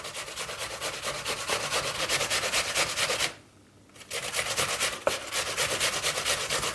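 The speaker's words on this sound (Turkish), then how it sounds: "İçindeki çiğitleri rendelememek için çevire çevire rendeliyorum." Apples are grated on a hand grater with steady, rapid rasping strokes, close and loud, broken by one short pause before the rhythmic scraping resumes.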